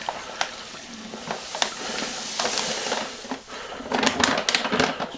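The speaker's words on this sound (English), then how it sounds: "And then I'm going to pour my sugar." Ten pounds of granulated sugar are poured into a wine fermentation vessel, giving a close, grainy rushing hiss with sharp crackling bursts. The stream builds to a louder, denser pour near the end.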